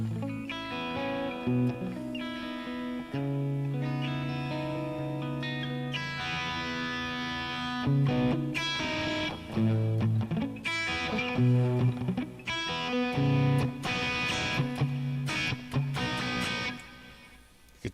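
Electric guitar fitted with a Floyd Rose tremolo, played through effects with distortion and echo, sustained chords and bright riffs running loud and continuous throughout.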